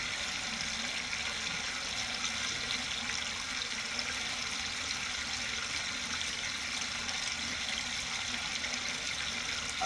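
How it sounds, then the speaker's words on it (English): Water pours steadily over a small dam in a clear Florida stream, flowing across the top and through a hole near the bottom, a constant close rushing wash with no voices. "So the water's flowing on both the top and the bottom."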